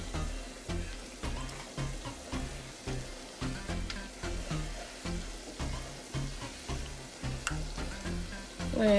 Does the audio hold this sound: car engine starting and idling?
no